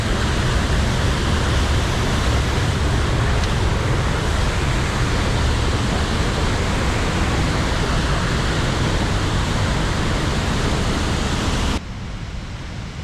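Steady, loud roar of Vickery Falls heard up close, a continuous broadband wash of falling water that drops off abruptly near the end.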